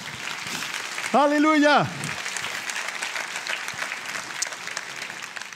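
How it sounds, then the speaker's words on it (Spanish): A church congregation at a Spanish-language sermon claps steadily and densely throughout, while one voice briefly rings out with a sustained, sung-like exclamation near the start. "Dale un aplauso al Señor, por favor."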